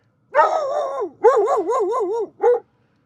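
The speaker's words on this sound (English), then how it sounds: "He's barking at nothing." A dog gives a few drawn-out, wavering barks close by, almost howl-like, followed by one short final bark, with quiet between.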